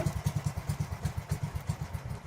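A small engine powering a diving air compressor on a raft chugs in a quick, steady low beat, close and fairly loud with a light clattering edge.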